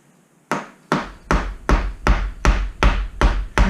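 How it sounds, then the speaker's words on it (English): A soft mallet taps fork parts into a Kawasaki KZ400 front fork, nine or so evenly spaced dull knocks, close and fairly loud, each ringing briefly before the next. "Get it started with a hammer. I always use a soft mallet,"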